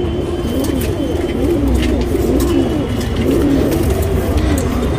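A tournament pigeon cooing close by in repeated low rolling coos, loud and continuous against a steady background, with no talking.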